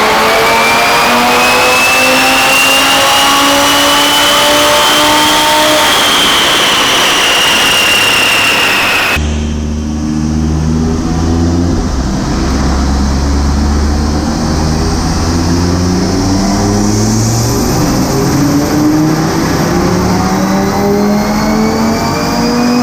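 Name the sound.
Audi RS3 stage 2 engine revving during dyno run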